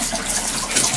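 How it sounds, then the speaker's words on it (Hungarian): Water runs from a tap in a home, a steady close gushing hiss with no pauses and no talk over it. "A hidegből meleg folyik."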